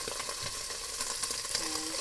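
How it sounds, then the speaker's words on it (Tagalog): Garlic and onion frying in rendered pork fat for a Filipino sayote stir fry, giving a steady, close hiss of sizzling with faint stirring clinks, no voices. "We're gonna go ahead and throw in our garlic and onion together"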